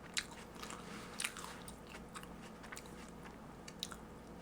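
A crunchy apple being bitten and chewed close to the microphone, a few sharp crisp bites followed by quieter wet chewing, no talk.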